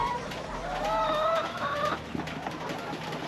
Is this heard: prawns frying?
no